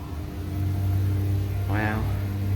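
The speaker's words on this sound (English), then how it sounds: "Listen to the motor." The motor of an old one-speed Waygood-Otis gated traction lift at 143 Charlotte Street gives a steady, low, tonal hum, with a brief voice cutting in near the end.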